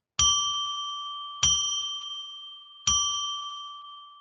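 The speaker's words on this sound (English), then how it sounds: "I'm going to ring a bell 3 times to declare and establish sacred space." A hand bell is struck three times at even intervals to open a spiritual call-in show, each clear metallic ding ringing out and slowly fading before the next, with no talking.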